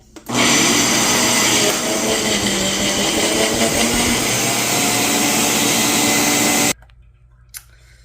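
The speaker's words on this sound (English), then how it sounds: "I'm going to blend it together" Blender whipping cottage cheese, a loud steady whir running unbroken for about six seconds before cutting off abruptly, then near silence with a faint knock.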